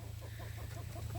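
Free-range chickens cluck softly and continuously nearby, with ducks among them, as they react to black soldier fly larvae dumped on the ground, over a low steady background hum.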